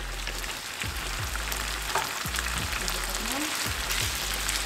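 Chicken fries in a pan with Worcestershire sauce, a steady moderate crackling sizzle with a few soft stirring knocks and clinks throughout.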